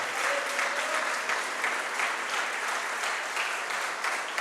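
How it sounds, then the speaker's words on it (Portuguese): A church congregation claps together in praise: a full, continuous wash of applause at a steady moderate level that runs the whole stretch without voices on top. "Dê uma linda salva de palmas para Jesus."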